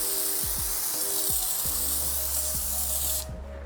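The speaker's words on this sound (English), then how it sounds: "It's a much more even and uniform spray." An IK electric foamer sprays foam onto a car tailgate in a steady, loud hiss with a motor drone and a few rhythmic clicks, cutting off abruptly just before the end.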